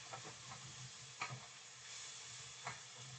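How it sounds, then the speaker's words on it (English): Shallots fry in hot oil in a pan, giving a constant close sizzle. A few sharp scrapes and taps from stirring break through the hiss. "How's that sizzle, everybody?"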